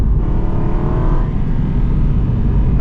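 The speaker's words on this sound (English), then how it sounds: "Engine sound is awesome." An Aston Martin Vantage V8 manual's engine roars steadily while accelerating at close range, a deep continuous rumble that holds its loudness throughout with no voices.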